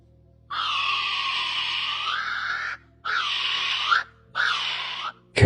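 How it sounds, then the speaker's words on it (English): A kiwi bird calls with shrill, piercing cries, one long note followed by two shorter ones, loud and close against a quiet background. "Kiwi bird."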